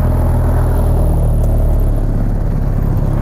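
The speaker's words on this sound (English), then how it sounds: "See if we can pull this baby out in traffic and go through those gears again." A 1928 Ford Model A pulls into traffic while the driver shifts through the gears. Its engine gives a loud, steady, low rumble and whir that fills the space close by.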